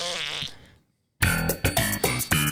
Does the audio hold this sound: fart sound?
yes